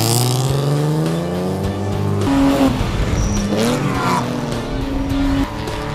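Race cars lapping Eagles Canyon Raceway during a Chump Car endurance event, with loud engines droning and revving through gear changes and tires squealing, the cars close by and continuous throughout.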